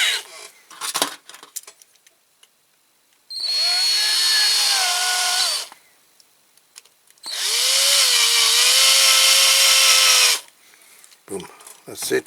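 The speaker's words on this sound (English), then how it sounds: "let's put the bigger drill bit on." A power drill fitted with a bigger bit drills out rivets on the bonnet of a Massey Ferguson 65 tractor during a restoration. There are two long, loud, steady whining bursts, with quieter handling noise and brief clatter before and after.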